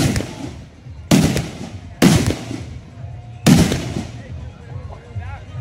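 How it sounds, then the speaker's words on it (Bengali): Firecracker bombs burst one after another during a nighttime village Gajan festival fireworks display, with three loud sharp blasts a second or so apart, each trailing off amid crowd murmur and ambient noise. "এখন যে বমটা ফাটছে"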